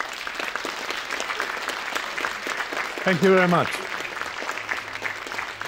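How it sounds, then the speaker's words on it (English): Warm applause from a lecture audience after a discussion with a former UN deputy secretary-general, sustained clapping throughout, with someone briefly speaking over it partway through. "please join us in giving a final warm applause"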